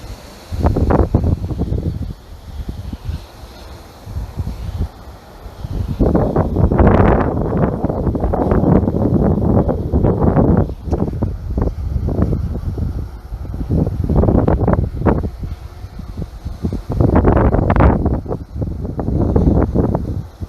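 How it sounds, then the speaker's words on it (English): Strong outdoor gusts buffet the microphone in heavy, rumbling surges that rise and fall over twenty seconds, loud and close, with brief lulls between blasts and no talking. "I get a strong wind warning now"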